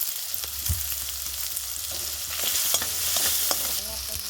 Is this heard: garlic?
yes